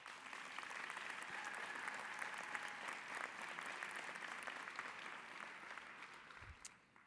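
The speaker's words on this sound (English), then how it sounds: "Give yourself a hand of applause." Nursing graduates at the Yale School of Nursing 2023 commencement applaud together in a large hall. The steady, fairly distant clapping lasts several seconds before tapering off.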